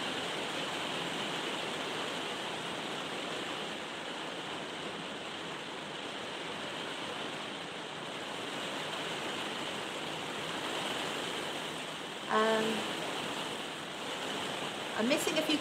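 Continuous rain falling as a steady, moderately loud broadband wash, unchanging for most of the stretch, with a brief tonal sound and small knocks near the end.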